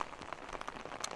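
Rain patters steadily on surfaces during an afternoon trek on Mardi Himal in Nepal, a close, dense scatter of drops with no voices.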